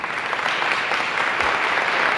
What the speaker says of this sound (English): So let's give a big round of applause for Luzada.